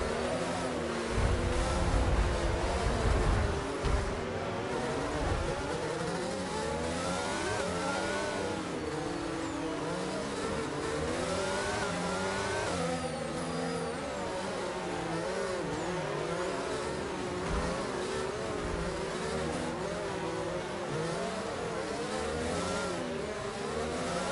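Racing-game cars accelerate as a pack after a safety car period, engines revving and rising in pitch over a sustained loud drone, with a radio-style voice speaking intermittently over the engine noise.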